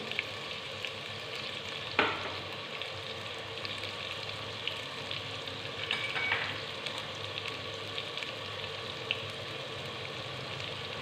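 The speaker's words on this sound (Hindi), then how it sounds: "चार से 5 मिनट हो गए कद्दू को फ्राई करते हुए।" Chopped pumpkin frying in a pan for a pumpkin and chana dal curry, a steady close sizzle throughout with occasional clicks and stirring scrapes.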